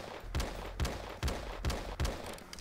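Gunfire in the shooter game Outbreak, five heavy shots spaced roughly every 0.4 seconds with a steady low rumble between them, loud and close with no voices.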